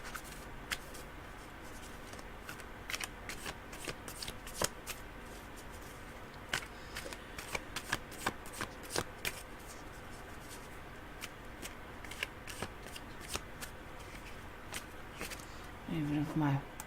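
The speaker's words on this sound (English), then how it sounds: "I'm just shuffling now." Tarot cards shuffled by hand during a psychic reading, a steady run of soft papery flicks and riffles, with a brief louder rustle near the end.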